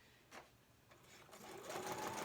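A sewing machine stitches a junk journal signature, its quiet motor rising into a faint, steady whirring run after a couple of soft knocks.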